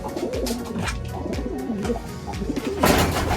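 Several pigeons coo repeatedly in a mini loft, soft throaty rolling calls overlapping close by, with a louder burst of cooing near the end and no talking.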